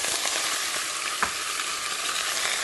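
Loud, continuous sizzling of chicken frying in a pan, with occasional scraping stirs and one brief clank midway.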